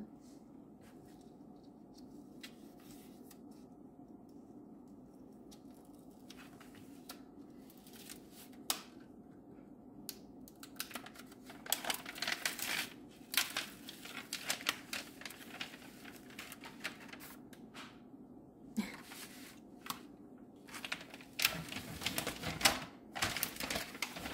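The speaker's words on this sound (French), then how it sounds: "je vais enlever le papier opaque pour vous montrer l'image" Crisp crackling and rustling of a thin opaque protective paper sheet being peeled off a diamond painting canvas in bursts, growing busier and louder toward the end, with no talk.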